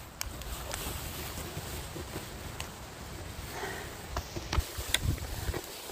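Gusty wind blows steadily outdoors by pine-needle-strewn picnic tables in Shelburne, Nova Scotia, a constant broad rush with a few sharper buffeting gusts near the end.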